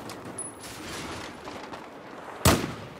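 Gunfire from a Battlefield 4 multiplayer match on Xbox One, mostly a distant low rumble of shots with one sharp, loud report near the end of the short stretch.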